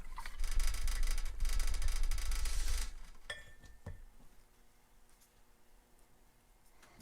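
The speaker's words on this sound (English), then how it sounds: "I'm going to grab my small square brush, rinse that off a little bit." A small square paintbrush is swished and rinsed in a water jar, giving a close, busy splashing for a few seconds, then a couple of light clinks against the glass before it goes quiet.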